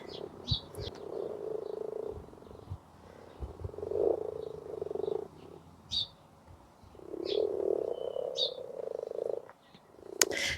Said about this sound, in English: all the frogs came to the surface and started croaking